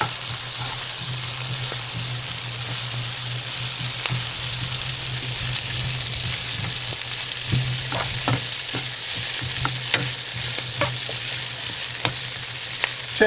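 Spinach and tomato sauté in a pan with a loud, dense, continuous sizzle, with occasional soft clicks from stirring.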